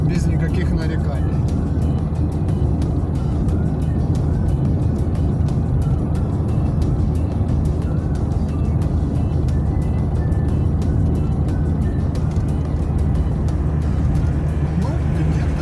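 A ZAZ Slavuta engine hums steadily while the car drives and gently accelerates under light throttle, a continuous loud low drone with road noise filling the cabin throughout.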